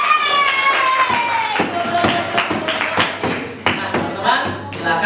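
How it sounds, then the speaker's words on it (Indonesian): A classroom of students clapping together in rhythmic bursts during a school lesson, loud and close, with a teacher's voice and sliding tones mixed in between the claps. "Kita berikan tepuk tangan untuk kita semua."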